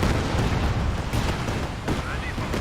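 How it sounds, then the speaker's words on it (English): Land Mattress rocket artillery barrage in the strategy game Company of Heroes 2, a loud continuous rumble of rocket launches and explosions with several sharper bursts, under a commentator talking. "Now got the land mattresses barraging Red's base"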